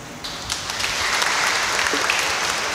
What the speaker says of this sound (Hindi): हम दोनों सिस्टर के लिए तालियां मार देंगे।